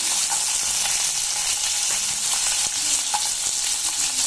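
Cumin, mustard seeds and onion frying in oil for a bitter gourd dish, making a loud, continuous hissing sizzle close by with a few small pops.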